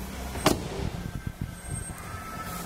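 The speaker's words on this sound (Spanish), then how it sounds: "Todo el pack eléctrico. Levanta vidrio, cierre y espejos." Electric power windows on a 2013 Volkswagen Bora raising, a near motor whir with a sharp click at the start and short mechanical thumps, heard alone with no talk.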